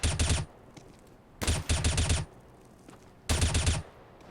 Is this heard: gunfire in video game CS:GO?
yes